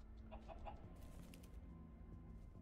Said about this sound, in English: And there's a chicken.